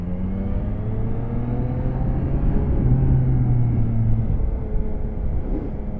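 A Yamaha Niken GT three-wheeled motorcycle's engine rumbles steadily while riding, loud and close, with rising tonal whine as it accelerates under wind noise.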